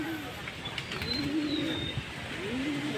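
Pigeons or doves cooing softly at their perch, low repeated coos rising and falling over faint background noise, fairly close.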